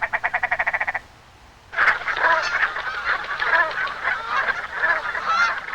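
Geese arriving in spring, a dense flock honking continuously and loudly in overlapping calls, preceded by a short run of rapid pulsed croaking calls and a brief lull before the honking swells in.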